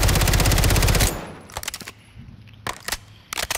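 Light machine gun firing in an online shooter game: a rapid, loud sustained burst for about a second, followed by several shorter separate bursts of shots at a distance.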